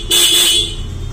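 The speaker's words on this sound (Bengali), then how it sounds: "এই যে বাইকের হর্নটা আপনাদেরকে বাজিয়ে শোনালাম।" A motorcycle in fresh, original condition gives a single short honk of its horn, loud and close, while the engine idles quietly beneath it.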